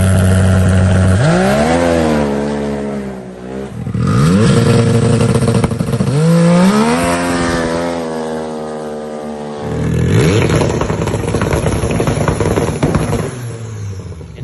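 A 500-horsepower turbocharged three-cylinder Can-Am side-by-side revs hard through repeated rising pulls, its engine note climbing and dropping through gear changes with a loud, close, continuous roar and no talking.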